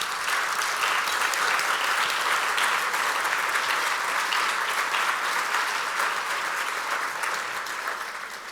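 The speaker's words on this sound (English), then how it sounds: "can you raise your hand, please, so we can give you a round of applause?" Gala audience applauding hospital clinicians, a dense, sustained roar of clapping from a large room that holds steady and begins to fade near the end, with no talk over it.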